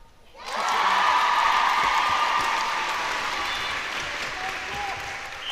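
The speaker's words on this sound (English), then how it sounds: "Great crowd applause." A crowd at a netball match between Israel and the Isle of Man breaks into applause. The clapping rises quickly, then holds as a dense, steady wash of hands that eases slightly toward the end.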